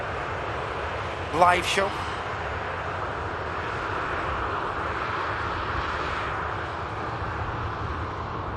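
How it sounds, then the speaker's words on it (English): An Emirates Airbus A380 departs, its engine roar a steady, fairly distant wash that holds throughout, with a brief louder burst of noise early on while a person speaks over it. "Colossus piece of kit, the Emirates 380s."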